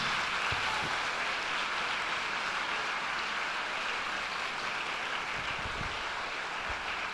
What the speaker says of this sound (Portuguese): Vamos aplaudir mais, minha gente.